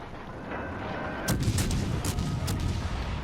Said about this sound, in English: That looks like a nice broadside.